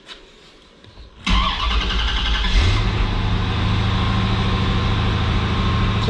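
A 1995 Corvette with a 5.7L LT1 V8 cranks and catches about a second in, flares up, then settles into a loud, steady, rumbling idle close by, with no one speaking.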